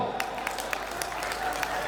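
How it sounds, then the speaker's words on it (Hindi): Scattered clapping from an audience at a community education committee gathering in Sumerpur-Shivganj during donation bidding, soft and uneven rather than a full ovation, with a voice talking over it. "थोड़ी तालियां तो बजाओ"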